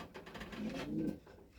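Pigeons coo softly in a loft, giving one low, throaty rolling call over quiet background noise. The sound is short and faint.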